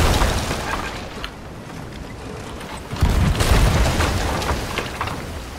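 Cannon fire in Sea of Thieves, deep booms out at sea over a roaring bed of wind and water, with a heavy blast near the middle and rumbling after it, no talk.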